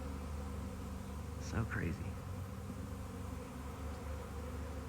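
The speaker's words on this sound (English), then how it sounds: "It's kind of crazy looking at a swarm." A swarm of honey bees buzzes as a steady, soft drone throughout, with a person briefly talking over it partway through.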